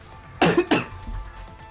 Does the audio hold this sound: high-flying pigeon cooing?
no